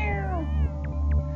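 A cat meow from the video game Yume Nikki, a clear, drawn-out electronic mew with a falling pitch, followed by a low humming tone and faint blips.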